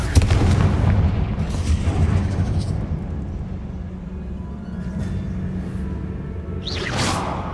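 The Confringo blasting spell from Hogwarts Legacy goes off as a deep booming explosion with a rumbling tail, followed later by softer whooshing effects and a final rising swish.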